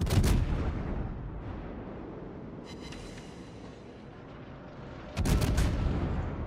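Heavy battleship gunfire from a Musashi in the naval game World of Warships, a deep booming salvo at the start and another loud blast near the end, with a low rumbling tail and distant crackle between them.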